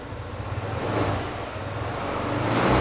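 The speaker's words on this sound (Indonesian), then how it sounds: "Suara mesin gimana, Mong, sama CVT, Mong?" A Honda ADV 150 scooter engine runs steadily at idle, a continuous low hum with a slight rise in intensity toward the end.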